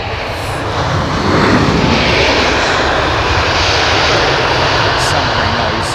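A passenger airliner lands at London Heathrow Airport in wet weather, its engines a loud, continuous close roar that holds steady throughout.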